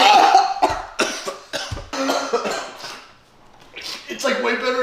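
Several sharp coughs come in a rough cluster, close and loud, mixed with people talking and brief pauses between bursts.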